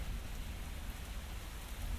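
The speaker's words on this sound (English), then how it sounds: "And it's raining heavily." Heavy rain falls in the horror video game The Cursed Forest, a steady, even hiss of downpour with no breaks, fairly quiet and heard alone.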